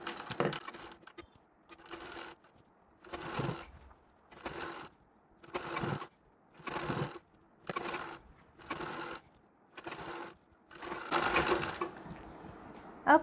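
A sewing machine stitches a Marathi-style saree in a steady series of about nine short, evenly spaced bursts of mechanical whirring, each separated by a brief quiet pause.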